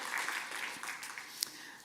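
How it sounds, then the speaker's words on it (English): Faint audience applause at an economic forum session in Brussels, with a scattered, fairly even patter of clapping and one sharper clap standing out near the end. "a round of applause for her"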